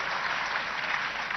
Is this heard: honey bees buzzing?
no